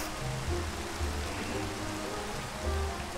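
Rain falling in the Minecraft video game, a dense, steady hiss of drops with a soft low rumble underneath, constant throughout with no pauses.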